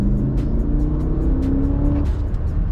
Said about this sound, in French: Alors vous avez la sonorité du V8,